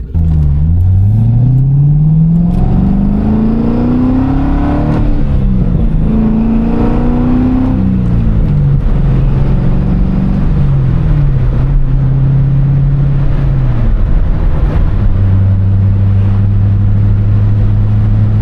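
A Corvette with a short-throw shifter pulls hard from the driver's seat, the loud engine tone climbing steeply through several gears with brief dips at each shift, then settling into a steadier drone.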